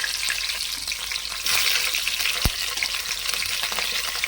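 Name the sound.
green chillies sizzling as they are added to hot oil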